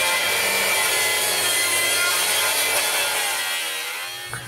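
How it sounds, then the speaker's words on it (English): A saw rips a pressure-treated 2x4 lengthwise into 2x2s while building high-tensile electric fence, giving a loud, steady, continuous cutting roar that holds for most of the stretch before tapering off near the end. "Here a pressure treated 2x4 is being ripped down into 2x2s."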